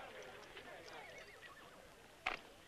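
A horse whinnies once, a short sharp neigh near the end, faint and a little distant over a quiet background with soft hoof movement.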